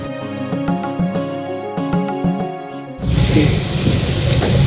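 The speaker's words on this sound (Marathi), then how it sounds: "असा धो पाऊस पडतो आहे, तुमच्या लक्षात येईल, त्याचा आवाजही तुम्ही ऐकाल" Heavy rain bursts in loudly and pours steadily, preceded by a few seconds of ringing tonal sound.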